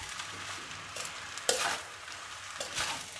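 Veg fried rice seasoned with vinegar is tossed and stirred in a pan, giving soft sizzling and several scraping strokes of a spoon at a quiet, close level, with no talking.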